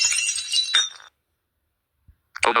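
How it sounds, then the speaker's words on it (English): A broken glass ringtone plays a bright shattering crash with a tinkling tail, then goes silent for about a second. A second crash starts right at the end. "Broken glass"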